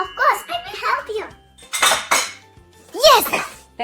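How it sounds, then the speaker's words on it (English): Dishes, pots and cutlery clatter and clink in bursts while a family cleans up after a meal at home, with a voice speaking between the clattering. "I need to wash the dishes and clean the table."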